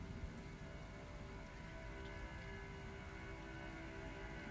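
Wrathful Rain, an area-damage ability in the tactical roguelite game Othercide, plays as a steady, dense patter of rain, even and unbroken throughout, at low level.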